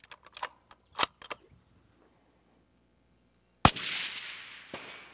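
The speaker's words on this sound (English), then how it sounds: "So go ahead and break the shot." A rifle resting on a loaded bipod fires a single sharp, loud shot that rings out and decays, preceded by a few light metallic clicks and handling sounds.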